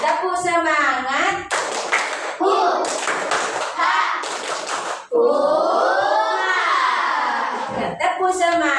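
Classroom children clap their hands rhythmically in a lively group clapping chant, with bursts of loud sharp claps alternating with children's chanting voices, close and energetic.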